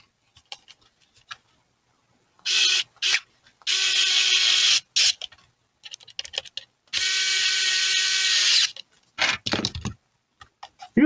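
A driver sets screws into a damaged DJI FPV battery case being repaired, heard as three close, whirring, ratcheting bursts of a second or more each, separated by quiet gaps and a few small clicks, with no talking.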